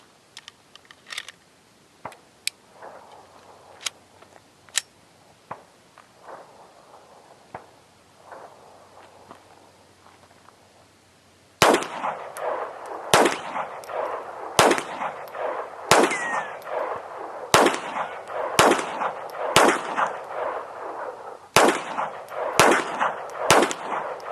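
Ten sharp .22 rifle shots using Remington Golden Bullet ammunition crack out one after another at a steady, unhurried pace, each loud and close, following quieter clicks and handling noises.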